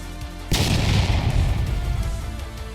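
A Gr-8 recoilless rifle fires a single heavy shot at a tank in a video game, a sudden loud boom that rolls off into a long rumbling tail.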